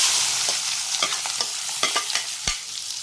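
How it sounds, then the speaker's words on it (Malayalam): Onions fry in hot oil right after mustard seeds have popped. A busy sizzle comes with stirring scrapes and a few sharp crackles, close and without any voice. "കടുക് പൊട്ടിയതിന് ശേഷം അതിലേക്ക് സബോള ഇടുന്നു"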